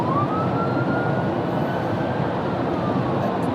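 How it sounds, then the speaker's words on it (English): A police siren wails in a single long, slowly rising and falling tone, fairly faint and distant-sounding over a constant rumbling background noise, with no talking. "Cue the police siren."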